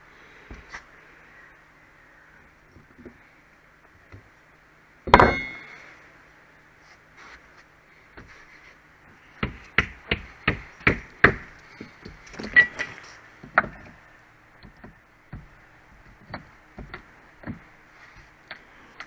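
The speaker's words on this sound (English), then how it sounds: "What I do, I take out these nails." Nails being pried out of weathered deck boards during a deck repair: one sharp loud crack, then a cluster of quick woody snaps and ticks, close and alone with no talk.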